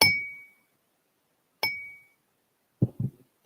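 Thick-based fluted glassware, crystal or plain glass, struck twice about a second and a half apart, each a clear ringing ding that decays quickly, followed by a couple of soft dull knocks.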